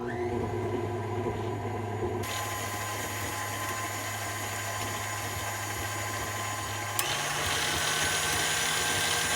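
A stand mixer runs on low, combining chocolate chip cookie dough with a steady motor hum and a mechanical whine. Its pitch and texture shift partway through, and it runs continuously without talk.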